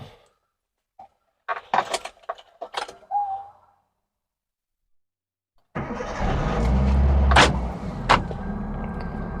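A Hyundai Santro car engine cranks to life after a few sharp clicks and knocks. It then settles into a steady, close, fairly loud idle with a brief louder rise partway through.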